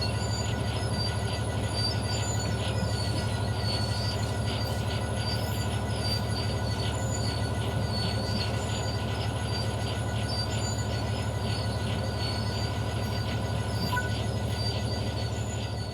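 Continuous rumbling of a train rolling along rails in the video game Train Sim World 5, with steady wheel noise and occasional high metallic squeals, no voices.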